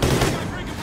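Burst of gunfire in the video game Call of Duty: Ghosts, a short loud volley of rapid shots fading quickly, close and alone.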